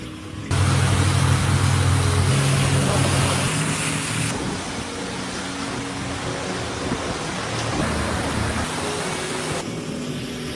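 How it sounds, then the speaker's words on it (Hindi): Heavy rain pours down in the Amazon rainforest, a dense, steady hiss of broadband noise that runs loud and unbroken from start to finish, with a low rumble beneath it. "बहुत बारिश हो रही है"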